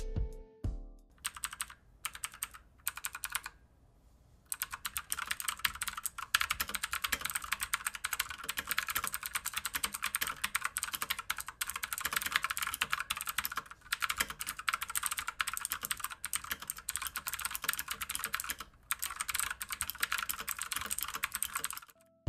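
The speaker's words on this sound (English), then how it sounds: "so I'll do it now so you could hear how these Otemu blue switches sound" Clicky mechanical keyboard with Otemu blue switches typing steadily for a long stretch, close up, with rapid crisp key clacks and only brief pauses.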